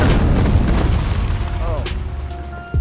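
A grenade detonates in the Dead Rising video game with a deep, rumbling boom that rolls out and slowly fades, followed by faint clinks and debris-like sounds.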